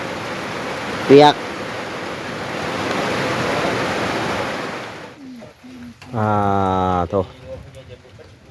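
Heavy rain pours steadily outdoors, a dense hiss that fills the first half, then drops away as people talk nearby.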